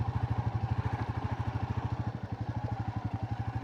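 Royal Enfield Classic 350 motorcycle being ridden, a steady rapid single-cylinder thump pulsing evenly throughout, loud and close with road and wind noise.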